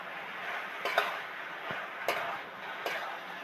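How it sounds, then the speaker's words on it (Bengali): A spoon stirs and sautés banana flower curry in a pan, making a few sparse metallic scrapes and clinks against the pan over a quiet, faintly sizzling background. "আরো 5 মিনিট ধরে ধরে কষতে থাকবো।"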